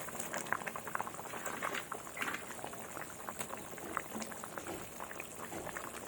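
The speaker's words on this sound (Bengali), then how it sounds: "তো ঝোলটা আমার খুব ভালোভাবে ফুটে গেছে" Fish curry broth with small bata fish and broccoli boils in a pot, a faint continuous bubbling and popping that stays even throughout with no speech.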